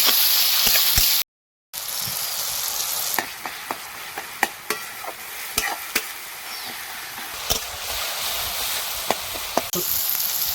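Masala of garlic and tomato sizzles steadily in hot oil for a moong dal and fish-head muri ghonto, with repeated sharp scrapes and clicks of a stirring spoon against the pan and one brief dropout.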